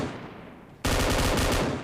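Gunfire in the mobile battle royale game BGMI: a softer burst gives way abruptly to loud, sustained rapid automatic fire that continues to the end.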